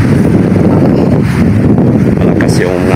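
Strong southwest monsoon wind buffets the microphone in a loud, continuous roar out on the water, and a voice is partly heard beneath it.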